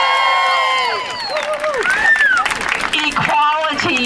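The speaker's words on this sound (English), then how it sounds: "give a shout, clap, snap your fingers as I read these great groups" Outdoor march crowd at Monument Avenue in Richmond, Virginia breaking into shouts, whoops and scattered clapping, with a bright whistle-like cheer rising in the middle and voices overlapping throughout.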